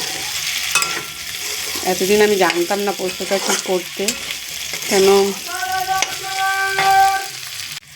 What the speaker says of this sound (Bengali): এই আলুটা এখন ভাজা হয়ে এসছে, এবার আমি জল দিয়ে দেবো।